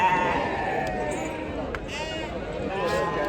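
Sheep bleating amid a crowded livestock market in Maharashtra, a couple of short calls rising over steady crowd chatter and nearby talk.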